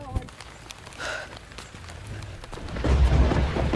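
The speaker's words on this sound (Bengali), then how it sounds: "বৃষ্টি শুরু হয়ে গেছে" Rain beginning in a 1990s Bangladeshi village, a soft patter and hiss that swells into a heavier low rumble of thunder toward the end, with a brief voice-like sound partway through.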